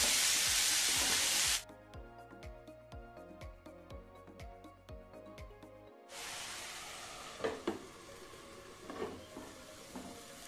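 Prawns cook in masala in a pan with a loud hiss at first, then a steady ticking run, then a softer ongoing sizzle with stirring clinks. The sound is close, and no one talks.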